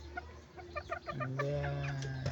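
Kelso gamefowl chickens at a breeding farm cluck in short bursts, then one draws out a longer, rising call, close by with no talking.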